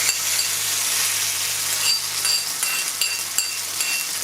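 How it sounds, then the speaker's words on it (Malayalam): Grated coconut roasts in a small pan for jackfruit erisseri, giving a soft, steady sizzle with occasional light clinks of a spoon stirring against the pan, close and fairly quiet. "ഇതൊന്ന് നമുക്ക് നല്ലപോലെ ഒന്ന് വറുത്തെടുക്കണം"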